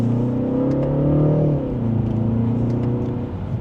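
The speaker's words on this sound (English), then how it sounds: "And with it still in sport mode, another acceleration." A 2025 BMW 330i in sport mode pulls hard under acceleration, its engine note climbing steadily then easing as the gear changes, heard from inside the cabin with no talking.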